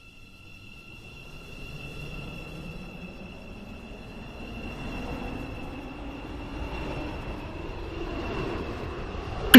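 A metro train on the Roblox Stepford County Railway video game rolls through the station with a sustained electric whine and a rising rumble, and no one speaks.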